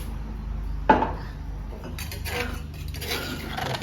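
Pot and utensils clink sharply once, then scrape and rattle lightly, as curry paste goes into a large pot of water not yet boiling for a mixed mushroom curry in a home kitchen.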